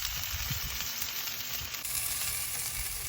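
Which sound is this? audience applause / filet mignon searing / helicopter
filet mignon searing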